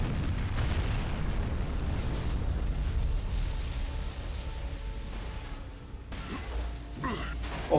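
A vehicle blows up in Gears of War 2, giving a heavy, rumbling explosion with a long low roar, then crackling debris and a later burst near the end.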